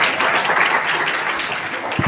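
An audience claps during a religious youth message, a dense steady wash of applause held at full volume throughout, close and continuous, ending with a brief thump.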